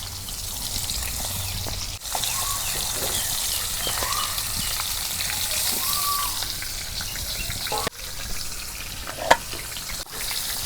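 Pieces of a large pomfret, head and belly, fry in a pan of hot oil, a loud, steady, close sizzle and crackle that runs throughout, with a few brief knocks and splutters.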